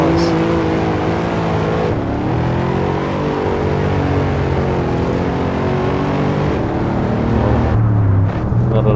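Mercedes W213 E63S Estate engine in the racing game Assetto Corsa, a steady loud drone with shifting harmonics as the car runs along the Bikernieki circuit, continuous throughout with no talk.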